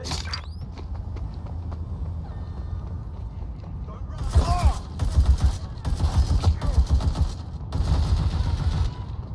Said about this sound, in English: Suspects shooting!